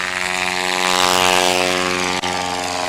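A STOL airplane takes off at Patriot Airpark, its propeller engine a loud, close, steady droning roar with a strong buzzing tone that holds for the whole stretch.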